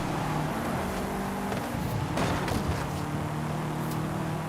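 Car engine hum while driving in Forza Horizon 5 online racing, a steady, fairly quiet drone with faint shifts in pitch and a short rise partway through.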